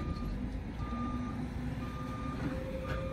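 A truck's reversing alarm beeps at a steady regular pace under a low engine rumble while trailers are moved around a boat dealership lot, moderately distant and fairly quiet.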